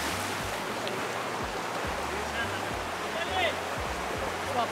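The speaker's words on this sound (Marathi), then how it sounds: "पाण्याचा आवाज खूप जास्त आहे" Loud, steady rush of stream water on the Devkund waterfall trek in Tamhini Ghat, a dense broadband roar that fills the whole clip with no break and no voices over it.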